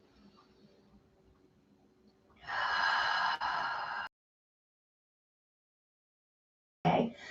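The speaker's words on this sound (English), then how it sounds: "So breathing in through the nose. As you breathe out, open mouth." A yoga student takes a cleansing breath, starting with a soft, quiet stretch and then a loud, breathy open-mouth exhale lasting about a second and a half. Silence follows, then the start of another rushing breath.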